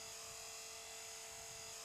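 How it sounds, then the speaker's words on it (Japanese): A radio-controlled helicopter hovers and wobbles a short way off, giving a steady, even high-pitched whine with a constant tone and no break or change in level. "ラジコンヘリコプターは、あなたから少し前方に離れた場所で、揺れながらホバリングしているはずです"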